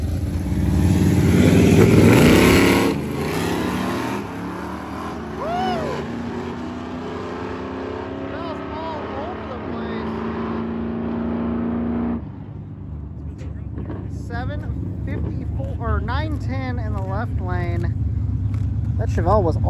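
An old-school Ford Ranger and a Chevelle muscle car roaring down a drag strip at a Carolina drag cruise event, a loud rising engine howl that cuts off and gives way to lower rumbling, with people talking over the later part.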